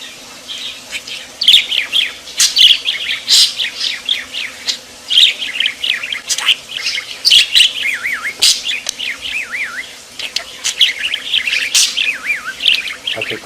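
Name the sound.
pet bird chirping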